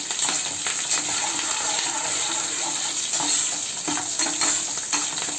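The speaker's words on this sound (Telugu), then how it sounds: "పచ్చిమిరపకాయలు చిటపట అంటాయండి తాలింపులో వేసినప్పుడు." Slit green chillies crackle and sizzle in hot tempering oil for lemon pulihora, a continuous close frying hiss with scattered pops and stirring clinks throughout.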